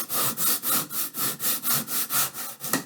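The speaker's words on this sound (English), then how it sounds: "rest that on top of the timber and put it on top of the sandpaper" A wooden paddle pop stick is rubbed back and forth on sandpaper laid on timber, giving a steady rhythm of about a dozen close, even rasping strokes with no talk.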